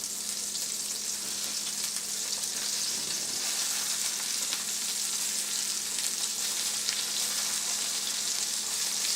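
Venison medallions fry in a hot skillet, filling the space with a loud, continuous close-up sizzle that holds steady throughout with no voices over it.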